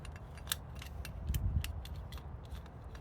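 A brake caliper piston compressor tool retracts the rear caliper piston on a 2020 BMW 330i, giving close, crisp metallic clicks and ratcheting snaps in an irregular rhythm, with a brief grinding swell midway.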